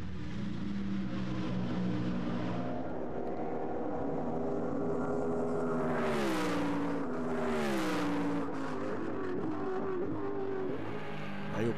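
Race car engines in a Gran Turismo world championship race at the Slovakia Ring roar steadily, with a loud rising and falling pass of cars sweeping by midway, no talk over it.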